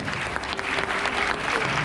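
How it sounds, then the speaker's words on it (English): Audience applause at a live magic and illusion show as a young volunteer is called up, a brief, dense burst of clapping and crowd noise at a constant level from start to finish. "Give a round of applause"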